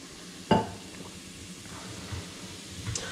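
Chopped onions frying in a pan for palak paneer, a steady soft sizzle with one sharp metallic clank of a utensil near the start and small scraping stirs later.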